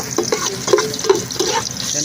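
Garlic and onion sauté in a pan with a steady sizzle and occasional stirring scrapes, close up, while voices talk faintly in the background.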